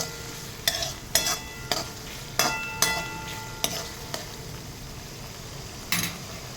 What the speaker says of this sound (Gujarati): હવે હું તુવેર ઉમેરી દઈશ. થોડીક વાર તેને પણ સાંતળી લઈશ.